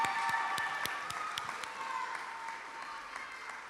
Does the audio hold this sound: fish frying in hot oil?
no